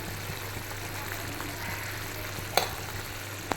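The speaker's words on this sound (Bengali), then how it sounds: "ভালো করে মশলাটা কষিয়ে নেব" A spice paste sautés in a pan for a Bengali bhetki fish dish, giving a steady low sizzle with faint stirring scrapes and a couple of sharp clinks near the end.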